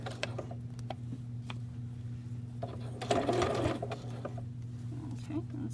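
A sewing machine stitches a neckband onto a V-neck tee, its steady mechanical hum running quietly throughout, with a brief burst of faster stitching midway.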